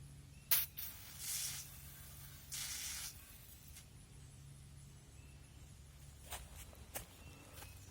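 Short bursts of hissing from a SABRE OC/tear gas pepper spray canister firing a stream, a couple of longer jets and several quick puffs, fairly close against a quiet background.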